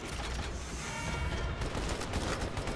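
Explosion and gunfire in the Halo 2 video game, a dense continuous rumble of blasts and rattling shots that fills the whole stretch at steady loudness.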